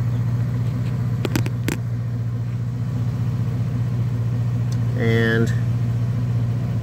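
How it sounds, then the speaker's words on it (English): A Jeep engine idling steadily while charging its battery, a constant low rumble with a few brief clicks early on and a short voice near the end. "You can hear the Jeep is still running, charging the battery up."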